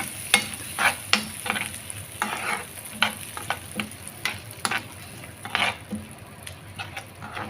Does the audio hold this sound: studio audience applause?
no